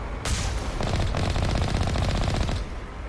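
Rapid automatic gunfire in the video game Mass Effect Legendary Edition, a loud sustained burst of closely spaced shots lasting a couple of seconds before cutting off.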